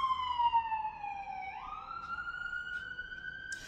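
A police siren wails, falling and then rising in pitch, heard alone at moderate volume from some distance.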